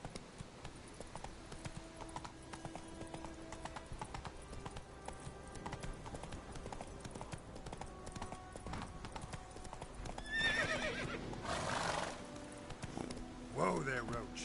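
Roach, a horse in The Witcher 3 on PS4, gallops with steady, rapid hoofbeats that run throughout, and a louder rush of movement comes near the end with a whinny-like cry, while a voice speaks over it.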